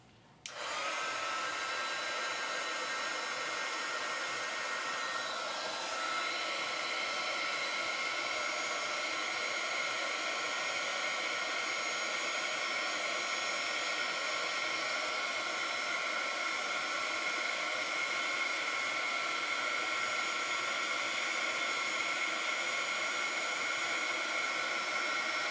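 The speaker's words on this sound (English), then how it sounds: "Then I'm going to turn on my heat gun." A heat gun blows steadily on embossing powder during a craft heat-embossing project, a loud, continuous airy roar that starts abruptly and holds unbroken throughout, with no voices.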